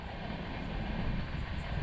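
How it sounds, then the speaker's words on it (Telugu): A drone flying low overhead, giving a steady close droning hum with a faint whine above it, continuous throughout. "డ్రోన్ చాలా కిందకుంది"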